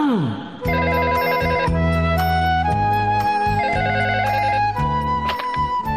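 A household telephone in a cartoon home rings loudly with a bright electronic ringtone, repeating its tones in a steady pattern for several seconds with no talking.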